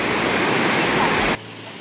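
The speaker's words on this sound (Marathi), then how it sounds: "इथे बाजूलाच वॉटरफॉल सुद्धा आहे" A monsoon waterfall beside the Kondane Buddhist Caves near Karjat gives off a steady, loud, full-bodied rush of falling water that cuts off abruptly near the end.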